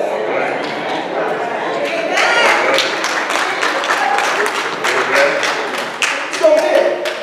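A congregation claps during a sermon, irregular rhythmic hand claps of moderate loudness running beneath a preacher's ongoing speech.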